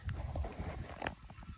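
Hooves of miniature horses on a farm in Kopraina, Greece, making a soft, irregular clip-clop close by, with low rumbling movement and a few brief knocks.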